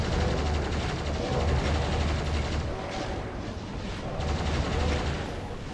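Nonstop weapon fire on a Doom map from Eviternity II, a dense, loud, rapid clatter of shots and blasts pounding on steadily with brief dips, no voices over it.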